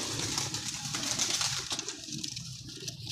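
Pigeons kept by an ustad, including golden pigeons, coo in a loft, soft repeated calls over a steady low background rumble with no talk.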